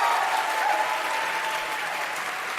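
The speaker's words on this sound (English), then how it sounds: "Are they cheering the moderator?" A live debate audience applauds the moderator with steady, dense clapping that fills the room from start to finish, no voices standing out above it.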